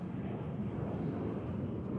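Airplane taking off at DFW Airport, a steady low, broad roar of jet engines held at an even level throughout, with no talk over it.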